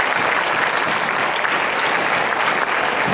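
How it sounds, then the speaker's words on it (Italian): Steady, dense applause from a crowd, loud and sustained throughout with no pauses. "un applauso a loro, sono stati veramente molto bravi"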